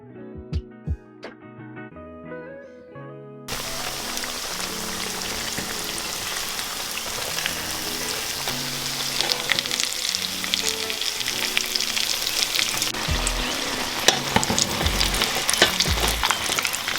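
Steady, loud sizzling of battered aubergine slices frying in hot oil, a continuous crackle that starts after a brief stretch of quiet music and continues throughout.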